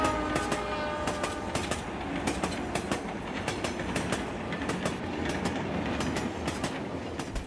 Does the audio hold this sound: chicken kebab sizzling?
no